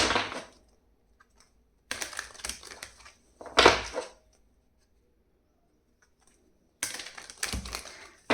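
Tarot cards handled and drawn from a deck, heard as several short bursts of crisp papery shuffling and slapping, close and fairly quiet, separated by silent pauses.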